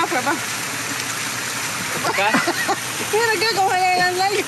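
A waterfall at the Salto de Quezaltepeque pours as a constant, loud broadband rush that continues throughout, with people talking over it nearby.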